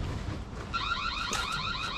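A car alarm sounds outside near a home garden in autumn, a warbling electronic siren cycling through rising and falling tones, moderately loud and steady over faint background noise.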